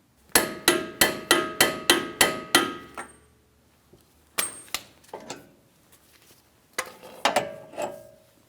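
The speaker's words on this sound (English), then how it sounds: "I'm going to be torquing this to 203 foot-pounds." Rear hub axle nut on a 2007-2014 Ford Edge being torqued with a ratchet/torque wrench: a close burst of about seven sharp metallic clicks in quick rhythm, then scattered clanks and clicks after a pause.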